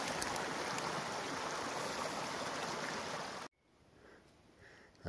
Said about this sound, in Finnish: Kaunis puro täällä metsän siimeksessä virtaa.